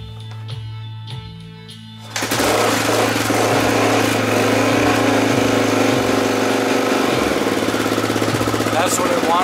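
A Honda XR600R motorcycle engine catches after a few thumping cranks, then runs loud and steady at a fast, close, rough idle.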